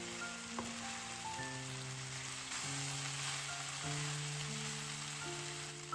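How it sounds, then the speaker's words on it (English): Chicken pasta bake filling sizzles softly in a pan as it is mixed, a faint, steady crackle under quiet sustained background music, with no voices. "go ahead and add the chicken back in. Then give everything a good mix so all the flavors come together"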